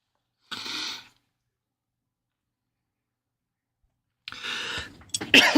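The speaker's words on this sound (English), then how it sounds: "Excuse me, tickly cough tonight." Two short coughs separated by a long silence, the second burst followed by rustling and noise close to the microphone.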